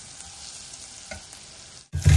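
Sliced onions sizzle in a hot pan for majjiga charu, a brief close frying hiss that ends in a louder burst of clatter near the end.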